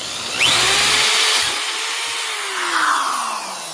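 Drill driving a Greenlee carbide hole saw through sheet metal at high speed, a loud harsh whirring grind that surges at the start, eases, then swells again as the cutter breaks through.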